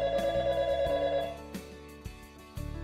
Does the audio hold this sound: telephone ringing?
yes